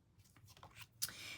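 Scissors trimming the edges of a paper card-stock panel for a stamped autumn gift card holder craft, a series of quiet snips and paper rustles building to a sharper cut near the end, close and faint.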